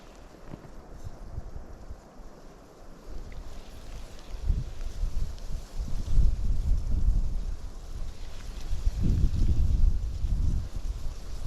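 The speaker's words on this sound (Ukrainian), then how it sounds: "від вітру сховався тут, але все рівно задуває" Gusty wind sweeps across a lake in a forest during a pike and perch fishing trip, buffeting the microphone with a low, rumbling roar that swells and strengthens in the second half; no one speaks.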